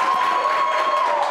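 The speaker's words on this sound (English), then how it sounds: "A round of applause," Crowd applause and cheering at a live comedy or game show event, a dense steady wash of clapping mixed with a sustained tone, loud and continuous over the brief moment.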